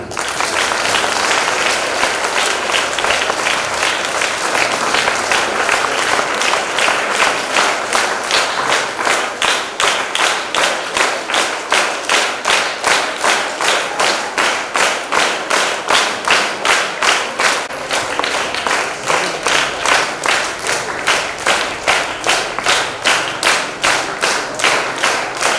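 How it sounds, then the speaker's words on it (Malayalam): Students at a school Yoga Day event stand and clap together in a loud, sustained round of applause that settles into a steady rhythmic beat, close and continuous for the whole stretch. "എല്ലാവരും എഴുന്നേറ്റ് ഒന്ന് ക്ലാപ്പ് ചെയ്യുക."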